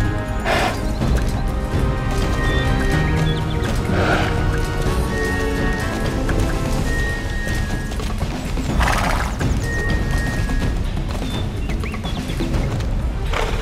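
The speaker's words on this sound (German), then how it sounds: "mein Pferdchen kommt mir heute so dermaßen lahmarschig mit vor" Horse hooves clip-clopping in the game Star Stable, with occasional whinnies, layered over a dense, steady bed of game sound and music.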